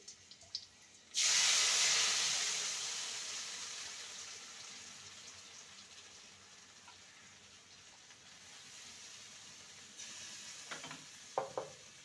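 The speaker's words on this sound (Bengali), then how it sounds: "ফোড়নটা ভাজা হয়ে গেছে" A loud sudden sizzle as whole spices hit hot oil, fading into steady frying crackle, with a few faint clinks near the end.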